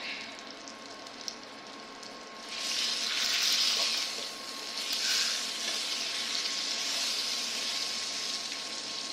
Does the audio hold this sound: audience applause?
no